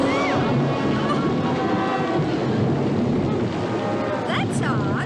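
A sudden rain shower pours down in a steady, loud hiss with low rumbling, while voices talk over it throughout.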